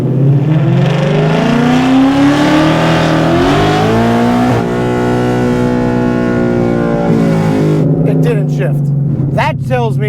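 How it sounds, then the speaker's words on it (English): Engine of a 2024 Mustang drag car held at high, steady revs on a dyno, a loud sustained roar whose pitch shifts and then drops off near the end, with talking over it. "it just goes to that rev limiter and stops"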